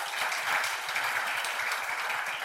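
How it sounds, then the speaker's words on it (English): Applause from an audience at a talk, a soft, even wash of many hands clapping at a distance for a few seconds. "Please, everybody, clap for her."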